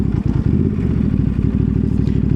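A Ducati Multistrada V2 rolls slowly in first gear without the clutch, its twin-cylinder engine putting out a loud, close, lumpy low-rev chug with rapid regular pulsing and slight mechanical clatter.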